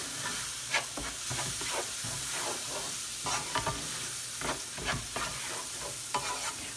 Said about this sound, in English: now we're gonna toast it, just like kind of like when you make a Spanish rice